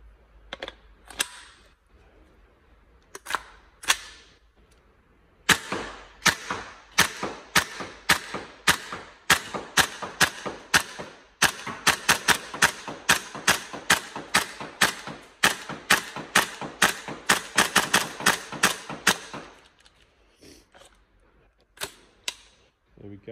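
A Tokyo Marui MK18 gas blowback airsoft rifle firing, with a few sharp single shots and then a long run of evenly spaced loud cracks, close by, ending in a couple of final shots.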